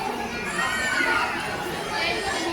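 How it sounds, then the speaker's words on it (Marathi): Crowd noise at the Asra Mata temple: a steady murmur of many voices, with children's calls mixed in, fills the air at moderate loudness and never falls silent. "तर गर्दी बघा किती आहे"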